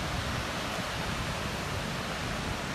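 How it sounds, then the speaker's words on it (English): Goðafoss waterfall in Iceland roaring as a dense, steady broadband rush of falling water, loud and continuous with no voices. "I'm taking you to these magnificent waterfalls."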